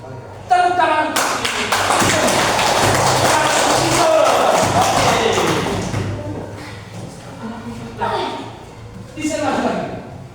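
Classroom students clap together in a burst of several seconds, loud and dense, then it thins to scattered claps as a teacher's voice talks over it.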